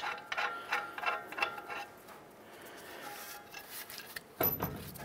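A nut being threaded onto the lower ball joint of a 2011–2018 Ram 1500 during a steering knuckle replacement: quiet, rapid ratcheting clicks and metallic ticking, then a short louder clatter of parts near the end.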